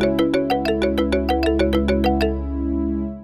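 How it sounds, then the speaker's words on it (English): Roland Fantom synthesizer playing a brass and kalimba/marimba patch: a rapid run of about a dozen bright plucked mallet notes over sustained brass chords, then the chord rings on alone and fades. "So number 1, just the brass and the kalimbas slash marimbas."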